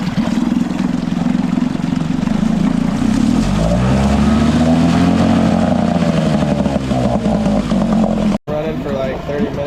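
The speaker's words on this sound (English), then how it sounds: "just gonna run this Nissan now for like 30 minutes or so. Seems to be idling good and fired right up." A Nissan outboard boat motor idles steadily and loudly close by, a continuous throbbing drone whose pitch rises and falls slightly, with a brief dropout near the end.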